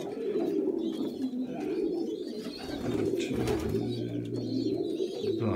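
Domestic pigeons coo in soft, low, rolling calls that overlap continuously, with one bird sitting on eggs nearby and the birds heard close and fairly quiet.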